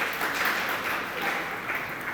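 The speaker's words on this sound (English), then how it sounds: "warm applause, round of applause for" Conference audience at a forum's opening plenary in Riga applauding the deputy mayor, a faint, distant, even wash of clapping with no voices over it.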